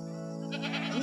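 A young goat kid, about one month old, gives one drawn-out, wavering bleat close by, loud and clear with no voices over it.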